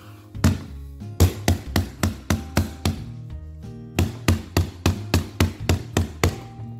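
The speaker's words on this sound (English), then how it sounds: "Here's some needle nose pliers." Needle nose pliers strike a smartphone screen with no protector, about twenty sharp, close taps in two quick rhythmic bursts separated by a short pause.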